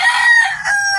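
A fighting cock crows once, a loud, close, harsh sustained cry that wavers in pitch and lasts about a second.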